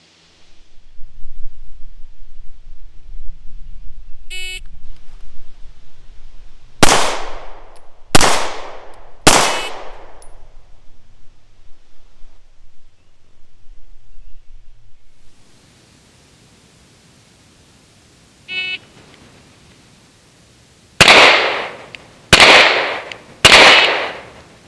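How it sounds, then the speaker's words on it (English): CZ 75 handgun fired at a target during a New Jersey police handgun qualification course, in two close, loud strings of three rapid sharp shots separated by a long quiet gap with faint background hiss. "the shooter has to draw and fire three rounds into the body of the target"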